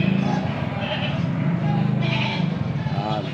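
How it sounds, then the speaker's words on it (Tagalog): Goats bleat on a goat farm, with several loud, close, overlapping calls throughout and a person talking among them. "Tingnan yung laki ng kambing na yun."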